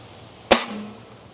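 A single sharp air gun shot firing a Gamo Rocket pellet into a block of government cheese, a loud close crack with a brief ringing tail, alone in a quiet room.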